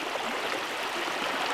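Slow-flowing river water on a trout stream, a steady, even wash of gentle rushing and gurgling close by, with no talk.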